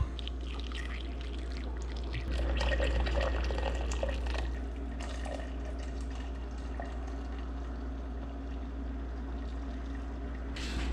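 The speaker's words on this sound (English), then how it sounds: "Now we're gonna pour it in the blender" Bulletproof coffee is poured into a blender, heard as a close, steady liquid stream that swells for a couple of seconds and then trickles on more quietly.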